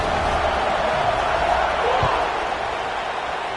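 A football stadium crowd waits before kickoff, filling the air with a dense, steady roar of massed voices at an even level throughout, with one brief thump partway through.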